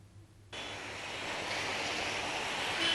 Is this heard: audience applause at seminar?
no